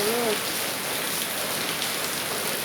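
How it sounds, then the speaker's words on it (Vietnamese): Steady rain falls outdoors in a cornfield setting, a dense, even hiss of drops on surfaces with a faint voice briefly heard at the start. "Các bạn thấy trời mưa không?"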